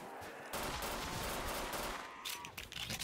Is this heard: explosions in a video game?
yes